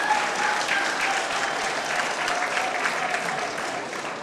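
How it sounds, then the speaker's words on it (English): Steady, dense applause from graduates at a Zambales National High School reunion in Fremont, California. The clapping is sustained and even throughout, with no talk over it. "Please give ourselves a round of applause."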